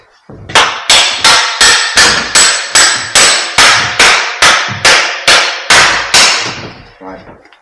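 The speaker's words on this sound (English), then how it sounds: "Plastic hammer there." A plastic hammer strikes about a dozen times in a steady rhythm, each blow a sharp, loud knock close up, while working on an Aprilia RS660 motorcycle.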